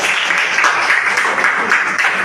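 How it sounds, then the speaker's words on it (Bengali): Children in a classroom clap together in a steady, dense patter of applause that runs the whole short stretch at moderate loudness, with no voices over it. "ওটার হাততালি হবে।"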